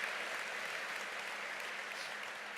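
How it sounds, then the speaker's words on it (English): Sustained applause from an audience at a civic celebration banquet, a steady dense wash of clapping held evenly throughout at moderate distance, with no voices over it. "Go ahead, you're allowed to clap."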